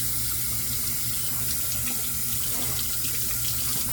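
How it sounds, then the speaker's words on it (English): Tap water runs steadily into a sink while shaving gear is rinsed, a continuous close splashing hiss with no talking. "let me get this rinsed out"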